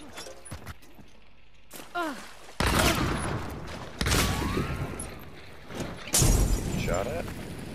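Gunfire in the video game Hunt: Showdown, several sharp bursts of shots with booming tails rising over quieter stretches, while a voice talks at points.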